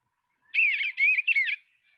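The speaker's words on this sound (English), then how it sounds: "let me just play briefly the sound here of a bluebird that's got just kind of a really sweet sound" A bluebird's sweet warbling song is played from a recording: three short, clear whistled phrases in quick succession, close and distinct against silence.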